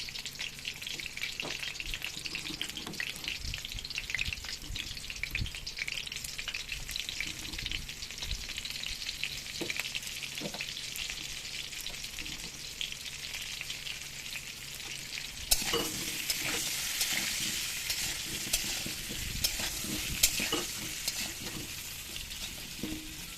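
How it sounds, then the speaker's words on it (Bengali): Potatoes seasoned with salt and turmeric fry in a pan with a steady hiss and crackle, stirred now and then, with the sizzle growing louder and brighter partway through. "বন্ধুরা আমি পাঁচ মিনিট আলুটাকে ভালো করে একটু লাল করে ভেজে নেবো"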